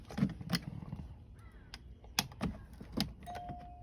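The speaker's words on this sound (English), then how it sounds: "We got them doorbell noises." A doorbell just wired up rings with several sharp chime strikes spaced through the moment, each followed by a short decay, fairly close and moderately loud, ending in a steady sustained tone.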